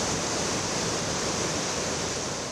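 Rushing floodwater of the Piave river near Ponte della Priula, a steady, dense, continuous roar of churning water that fills the whole space without pause.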